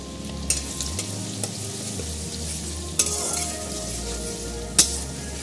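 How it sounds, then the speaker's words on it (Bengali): Chopped onion fries in a pan with a steady sizzle, broken by a few sharp clinks and scrapes of a stirring utensil against the pan. "এটা একটু অল্প ভাজা হবে।"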